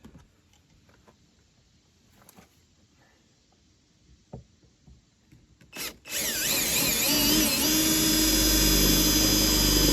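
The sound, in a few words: power drill drilling a hole in a 2012 Chevy Impala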